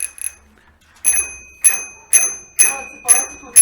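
A doorbell rung repeatedly at a front door, a bright ringing chime struck about six times in a steady rhythm, close and loud, with no talk.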